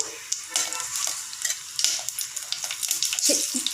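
Dried red chilli seeds crackle and sizzle in hot oil in a pan on a stove running at full flame, with a dense, close hiss and scattered sharp pops throughout and no talking.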